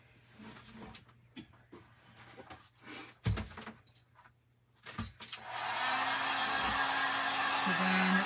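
A hair dryer blows steadily on a painting of watermelon slices to dry wet seed paint, switching on partway through and holding a loud, even roar to the end after quieter handling sounds.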